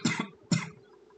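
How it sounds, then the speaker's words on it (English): A person choking on something coughs twice in quick succession, a rough double burst followed by a second harsh cough, close and fairly loud, then quiet. "Sorry for the sudden coughing."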